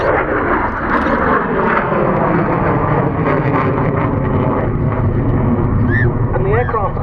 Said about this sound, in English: Look at the platform, the double delta platform of the Viggen.